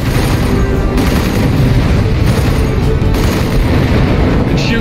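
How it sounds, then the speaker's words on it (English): Missiles explode in the Supreme Commander 2 strategy game, a dense, loud, continuous rumble of blasts and booming impacts that fills the whole stretch without pause. "Missiles away."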